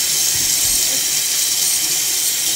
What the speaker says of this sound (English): Water's cold, so waiting for it to heat up.